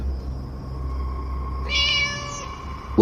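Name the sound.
cat meowing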